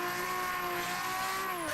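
A drifting car in the Assetto Corsa racing game, a continuous high engine whine with a sustained tire squeal running throughout, loud and close, tone dipping slightly near the end.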